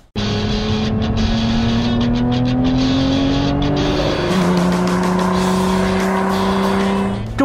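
Lotus Emira mid-engine, rear-drive sports car under way, its engine note climbing steadily through a gear, then shifting and climbing again, loud and close with no talking.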